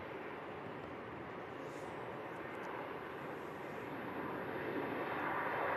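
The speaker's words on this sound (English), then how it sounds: "Next aircraft to arrive is going to be a Ryanair Max 8200 coming in from Alicante" A Ryanair Boeing 737 Max 8200 arriving from Alicante at Manchester Airport in thick fog, heard as a steady, broadband jet engine roar that holds level throughout and swells slightly toward the end.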